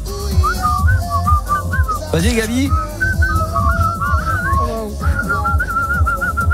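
Someone whistles a wavering, continuous tune close by over a steady rhythmic background, briefly interrupted when a voice speaks.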